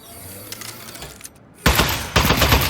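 Aperture Science turret from the video game Half-Life: Desk Job fires in two loud, dense bursts of rapid gunfire, each following a quieter stretch of low mechanical hum and clicks.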